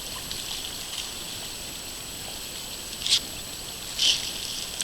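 Mountain creek water runs steadily into a deep trout pool, a constant broadband rush close by, with two short splashy bursts near the end.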